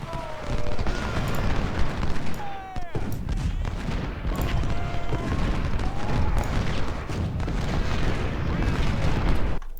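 Dense, continuous booming of video game cannon and artillery fire from a Civil War battle at Franklin, with overlapping blasts and whistling shells over a thick rumbling battle din.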